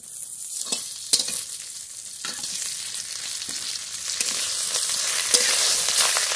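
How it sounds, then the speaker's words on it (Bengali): Fried bata fish laid into hot oil already tempered with bay leaf, radhuni and cumin seeds, giving a close, bright sizzle that swells and crackles with sharp spits, steadily louder toward the end. "ভেজে রাখা বাটা মাছ তেলের উপর দিয়ে দেব।"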